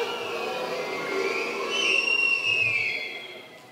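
A crowd whistles in protest at an event about a federal asylum centre in Giffers, with a shrill, sustained whistle that swells and fades over a broad background of crowd noise.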